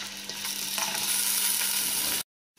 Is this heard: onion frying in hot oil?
yes